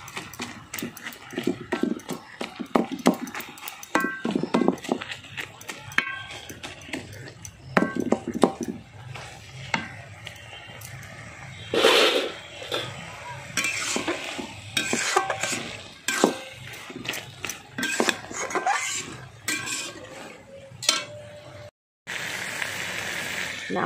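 Fenugreek greens and potato curry being stirred in a pan with a wooden dal masher, giving repeated scraping and clattering strokes with faint sizzling beneath, close and moderately loud, with a brief pause near the end.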